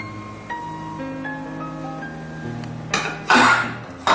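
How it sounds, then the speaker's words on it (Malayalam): Semolina is stirred in a pan with lentils and cumin, the spoon clinking and scraping against the metal in a few brief bursts near the end, over a steady hum with no talking. "നല്ലപോലെ ഇതൊന്ന് മിക്സ് ചെയ്യുക."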